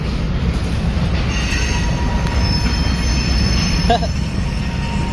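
Passenger and freight trains roll past at a Chicago-area rail junction with a loud, continuous rumble and sustained high wheel squeal. A sharp squeal stands out near the end, and voices murmur faintly under the noise.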